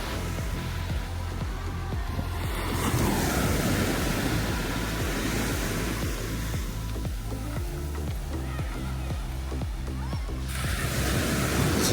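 Waves wash onto a busy beach in Martinique during light rain, a steady close surf rush and sloshing with rhythmic low thumps beneath faint background voices.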